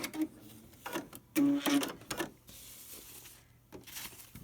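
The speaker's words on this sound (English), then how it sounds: "the machine will do a few locking stitches at the end" A Brother Dreamweaver XE embroidery machine sews a few locking stitches, giving brief, close mechanical whirring bursts with pauses between them, quiet overall.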